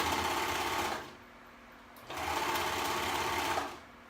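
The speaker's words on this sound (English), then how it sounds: "making sure my 3 pieces of fabric are together and I'm not just sewing one layer" A sewing machine stitches through three stacked layers of fabric in two steady running bursts, loud and close, with a short pause between them and no talking.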